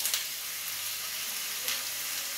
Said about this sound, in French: je mets mes oignons